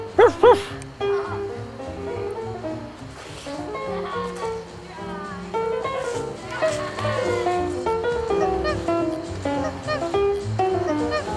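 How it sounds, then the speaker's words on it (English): A few loud, sharp barks at the start, then whimpering, yipping sounds mixed with voices talking nearby. "Make your sound. Let's hear the doggy."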